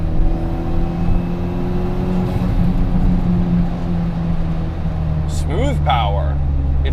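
Audi S4 fitted with a home-built 2.0L stroker engine pulls hard from 3,000 RPM, a steady loud engine drone rising in pitch, heard from inside the car with a brief whistling sweep near the end.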